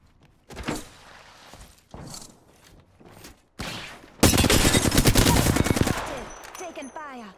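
Gunfire in the Apex Legends video game starts with a few scattered single shots, followed by a loud sustained automatic burst near the end, with brief clanks between the shots.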